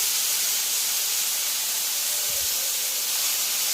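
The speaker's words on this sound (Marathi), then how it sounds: "मेथीच्या भाजीला फोडणी देऊन घेतली." Fenugreek leaves being tempered in hot oil give a steady, hissing sizzle that holds at an even level throughout, with no talking.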